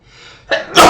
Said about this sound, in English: Do excuse me, I'm about to sneeze.